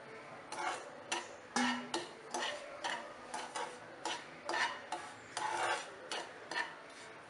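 A spoon scrapes and taps against a pan as fine semolina is stirred into ghee over a medium flame, making a steady run of rhythmic strokes of roughly even loudness with no talking.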